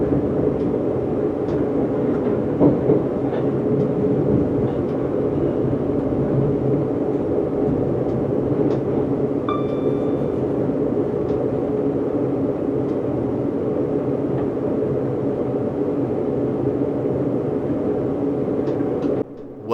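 A London Overground four-car electric train rolls into Willesden Junction on the Watford DC line, a steady low rumble and hum of wheels and motors heard from the cab, continuous and even, with a brief high tone partway through.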